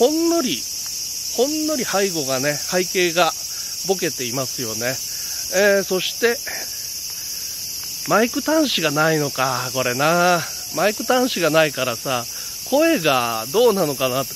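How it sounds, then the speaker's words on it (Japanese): Bear cicadas shrill loudly and continuously in a forest, a dense high-pitched drone that runs unbroken behind someone talking throughout. "セミの声が、クマゼミの声がね、ものすごいうるさいんですけどもね"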